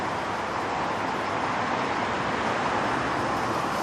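Steady, dense roar of road traffic passing close by, a continuous broadband wash with no pauses, loud and unbroken throughout.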